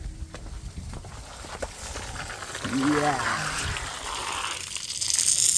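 Household water pump pushing water out, with a flowing, trickling splash close by that swells toward the end, while a person talks over it.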